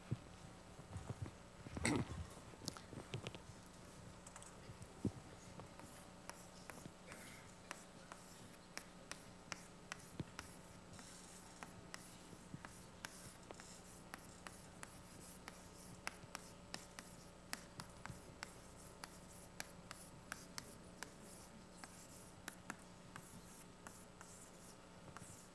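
A website address is written by hand during a mathematics seminar, heard as faint, intermittent scratchy strokes over a quiet steady room hum.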